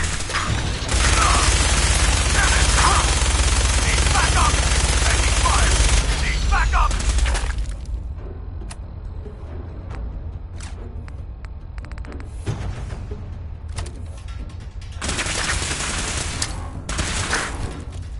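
Gunfire in a Fallout 4 battle: loud, dense bursts of automatic fire and mechanical clatter, then quieter scattered shots and rattles, with another loud burst near the end; a voice calls out briefly.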